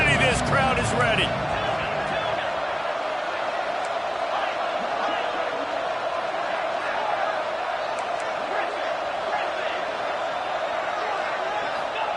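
A packed American football stadium crowd roars and cheers continuously at a college game, loud and sustained, with brief excited shouts near the start.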